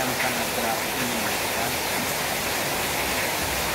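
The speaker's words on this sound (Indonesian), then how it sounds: "hujan yang sangat deras ini." Torrential rain hisses in a constant, loud wash, and a voice talks faintly under the downpour.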